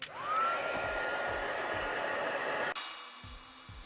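A heat tool whirring as it melts white embossing powder on a handmade Christmas card, a steady close blowing roar that rises at switch-on and cuts off abruptly near the end.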